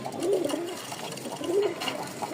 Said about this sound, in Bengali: দেখেন নটটা পাগল ডাক